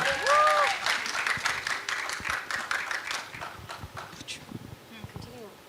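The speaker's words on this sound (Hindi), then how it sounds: "जोरदार ताली हो जाए इनके लिए" Audience applause for a singer on a local-round stage of a televised singing contest: a burst of clapping that starts strong and thins gradually over several seconds, with a voice from the stage mixed in near the start.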